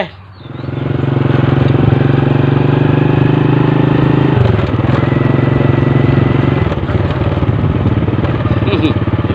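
A motorcycle engine runs loud and close for about nine seconds, a steady idle-like drone whose pitch dips once midway before carrying on.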